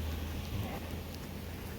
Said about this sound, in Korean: 그런데 이렇게 비가 내리고 있는 겁니다.